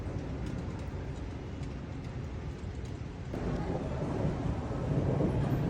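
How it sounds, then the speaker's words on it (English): A low, rolling rumble of distant thunder in Cefalù, Sicily swells and grows louder midway, with a steady wash of rain or wind underneath. "Got some thunder too."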